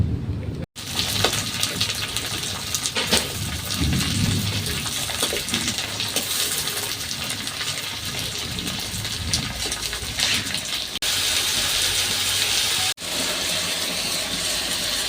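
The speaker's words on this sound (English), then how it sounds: "You wash them in warm water. Then you rinse. You rinse them twice." Small omena fish washed and rinsed in warm water, splashing and swishing with a steady gushing wash, brief gaps near the start and end; no talk.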